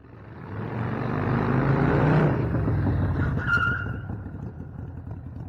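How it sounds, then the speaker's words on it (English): A motorcycle skids while braking with only the rear brake, its engine swelling into a loud rushing roar with a scraping tire squeal before fading away. "You will notice that I actually skid"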